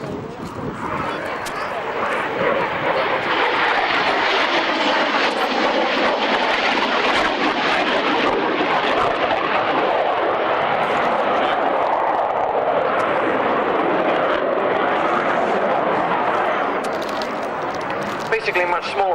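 An RAF Jaguar jet flies over an airshow, a broad, continuous rumbling roar that swells and holds near, with a voice talking over it throughout.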